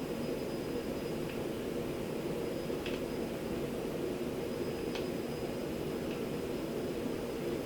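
A helicopter flies away in the Beautiful Katamari video game, heard as a steady, droning rotor-and-engine rumble that holds even throughout, with a few faint game blips over it.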